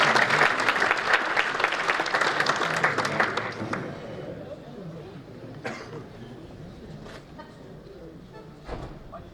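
A theatre audience applauds a maestro at a Venetian song festival: dense, loud clapping for about four seconds that then thins and fades, leaving scattered coughs and rustling in a quieter hall.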